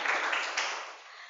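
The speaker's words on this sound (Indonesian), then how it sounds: "tepuk tangan untuk semuanya dulu" A class of students applauding together in a school science lesson, a short burst of dense clapping that swells briefly and fades within a second or so.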